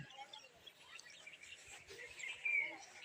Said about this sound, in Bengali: পাখির কিচিরমিচির শব্দ শুনতে পাচ্ছেন